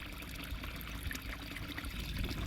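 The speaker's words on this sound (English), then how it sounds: "So all I'm going to do is just dunk it in the water and give it a little stir around." Peony flower buds swished and stirred in a container of water, giving a steady close-up trickle and slosh with soft splashing throughout, no talking.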